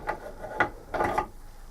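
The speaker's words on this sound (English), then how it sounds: "so I can unscrew this now" Part of a sink tap being unscrewed by hand gives a few short, dry clicking and grinding turns, close and fairly quiet, in quick separate bursts.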